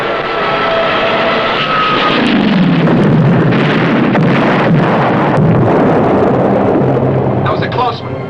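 A bomb bursts close to a submarine during an enemy bomb run, a loud sustained roaring rumble filling the space with a low sweeping boom and churning noise throughout, no speech.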